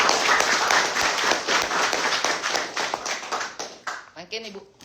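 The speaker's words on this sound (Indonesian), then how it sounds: "tepuk tangan dulu untuk Polda Bali." A group of people claps their hands for the Bali regional police at a gathering, a loud, busy round of applause that thins out and fades toward the end, with voices mixed in.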